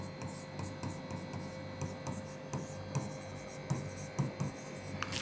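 A pen writes by hand on an acknowledgement card in an office setting, producing soft scratchy strokes in short irregular bursts over a steady faint hum, with no talking.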